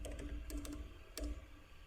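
Quiet clacking of a computer keyboard as a web address is typed, a few quick key taps in short clusters with pauses between.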